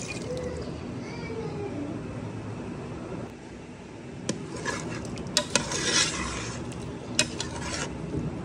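A spice mixture is poured into meat cooking in a pot on a gas stove, bringing a soft sizzle and stirring, with a few sharp metallic clinks of a spoon against the pan near the end.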